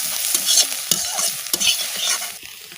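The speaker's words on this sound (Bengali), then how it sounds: "ডিমটাই দেখো ভেজে নিলাম।" Eggs fry in hot mustard oil in a wok, giving a constant crackling sizzle close by, broken by scraping stirs and clinks of a utensil, with no voices.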